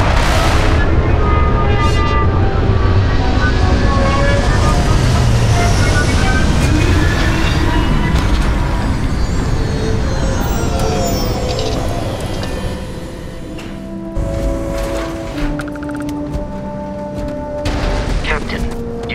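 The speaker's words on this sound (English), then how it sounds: "Struts primed. Retros firing." Spaceship retro thrusters firing during a landing in Starfield, a loud, continuous roaring rumble with rattling mechanical tones that drops in intensity partway through and is followed by quieter hums and clunks, with spoken voices over it.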